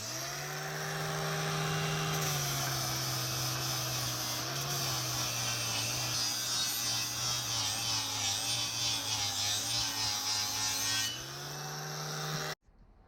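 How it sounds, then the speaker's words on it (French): An angle grinder fitted with a flap disc strips paint from steel bar in a loud, continuous whine with slight pitch wavers as pressure shifts, then spins down abruptly near the end; no talking. "j'utilise une meuleuse avec un disque à lamelles pour faire partir la peinture sans abîmer la ferraille"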